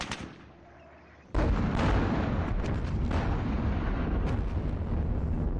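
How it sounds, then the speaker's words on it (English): In the Squad Battles war game Red Victory, a dense barrage of gunfire and artillery starts abruptly after a quieter moment, then carries on as loud, continuous rumbling and crackling blasts. "Lots of firing going on."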